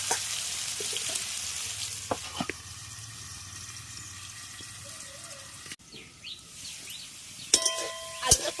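Potatoes with turmeric and salt fry in oil as a soft continuous sizzle, punctuated by metallic clinks and scraping of a utensil in the pan, with clattering knocks toward the end.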